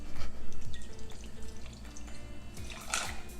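Liquid pours and splashes into an apple martini glass over ice, a close bubbling trickle with small drips and a brighter splash near the end.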